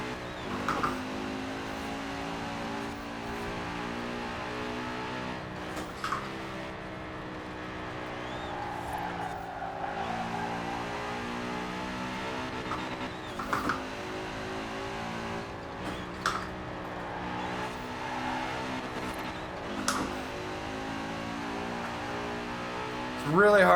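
A car engine in Forza Horizon 4, built as a street car with very short gears, revs and races throughout, its pitch climbing and dropping with quick shifts. Several sharp clicks cut through, and a voice talks over it.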